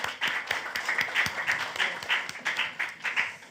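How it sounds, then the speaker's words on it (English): An audience at a political podcast event claps briefly, a short burst of steady applause from a small crowd, moderately loud and close. "Round of applause, ladies and gentlemen."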